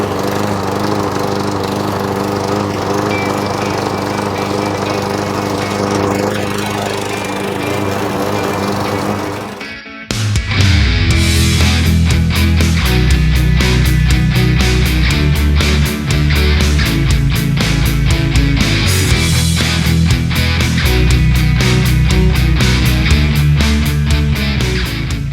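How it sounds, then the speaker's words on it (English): Lawn mower engine running with a rough idle, a steady buzzing drone that briefly dips and stutters midway, then resumes louder and choppier with pulsing irregularity, close and continuous with no talk. "I'm gonna throw the blade on it real quick and mow whatever I have for a yard."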